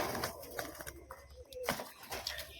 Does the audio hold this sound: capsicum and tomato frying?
no